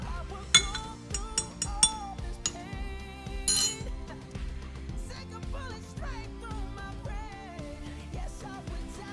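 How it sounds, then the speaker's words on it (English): A metal spoon stirs honey and salt into green tea in a glass, giving a few sharp clinks early on and then quieter scraping, all under steady background music. "So you stir and stir until the honey is all gone."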